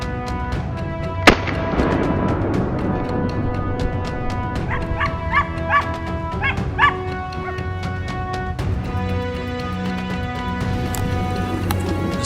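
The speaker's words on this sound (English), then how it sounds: "The sound of hunting dogs echoed from the other side of the mountain slope." Hunting dogs barking on a mountain slope during a wild boar hunt, with steady echoing barks and yips from a distance. A sharp bang rings out early, and the barking continues over a constant outdoor background.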